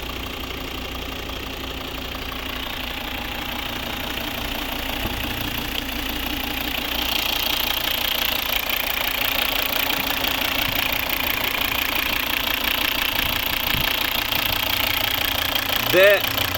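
A 2013 Volvo V60 AWD with a 2.4 five-cylinder D4 diesel and automatic gearbox idles with a steady, continuous clattering drone, close and even throughout, with a faint short squeak near the end.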